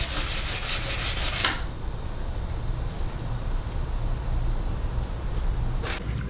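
Wood on a lathe being sanded by hand: close, raspy friction with quick rhythmic strokes at first, then a steady continuous rubbing hiss. No voices.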